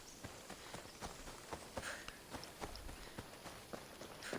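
Horse hooves clip-clop in a steady walking rhythm in the game Assassin's Creed Odyssey, soft and moderately close over faint ambient background, with no talk.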